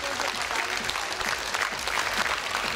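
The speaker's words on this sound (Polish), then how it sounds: "Ogromne brawa dla nich, ogromne brawa dla wszystkich tancerek." Huge applause for the dancers at a modern dance championship, a thick continuous roar of clapping from a large crowd that keeps an even level throughout.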